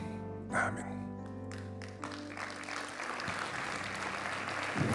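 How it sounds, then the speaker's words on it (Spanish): A church congregation claps hands together as an offering during a Spanish-language sermon on forgiveness; dense, sustained clapping builds and fills the space while music tones hold underneath. "Esta ofrenda de palmas es para ti"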